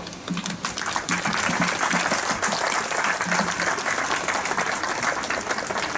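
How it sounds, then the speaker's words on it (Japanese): Applause from a crowd at a ceremony marking a new festival float (yagura) in Japan, dense and steady clapping that swells up after a quieter start and holds for several seconds. "今一度盛大な拍手をお願いしたいと思います"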